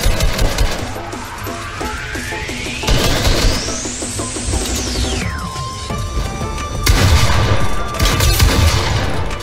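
Rapid gunfire crackles through a box fight video game, with dense shots, a long rising sweep, and a loud busy mix of game effects throughout.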